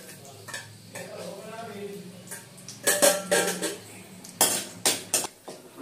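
Cloves and cashews frying in a pan for tomato rice, with a soft sizzle and several sharp clinks and scrapes of a spoon stirring against the metal, close and fairly quiet.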